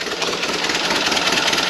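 Ford Model B engine running after a fuel delivery fix, a steady, close mechanical idle with a busy rattling texture throughout.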